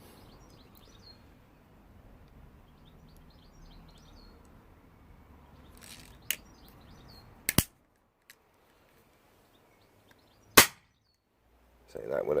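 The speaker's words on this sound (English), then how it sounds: "I'll do 2 shots with the pistol on low power, and then I'll do 2 shots with it on high power" HW45 air pistol fired on low and high power, giving sharp, isolated cracks spaced a few seconds apart over a quiet background, with a louder shot near the end.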